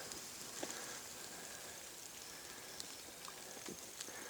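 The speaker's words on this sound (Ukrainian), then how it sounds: "Все капає просто на сіна." Rain or melting snow drips onto hay in an outdoor rabbit enclosure, a faint, steady hiss of tiny drops with a few sharper isolated taps, quiet and close, with no talk.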